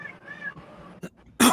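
A domestic cat gives one drawn-out, wavering meow at close range, followed by a few short, rough bursts that sound like sputters or coughs, in a quiet room.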